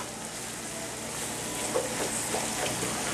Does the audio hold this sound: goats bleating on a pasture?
no